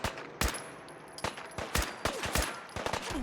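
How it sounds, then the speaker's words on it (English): Rapid gunfire and sharp explosive bursts from grenades in a Fallout-style shooter game, repeated loud cracks and booms scattered irregularly over a steady background rumble. "They're throwing a ton of grenades."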